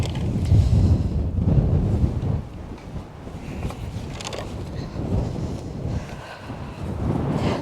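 Gusty wind buffets the microphone on an open seaside golf course at Nefyn in Wales, a steady low roar with stronger rushes near the start and toward the end, no voices present.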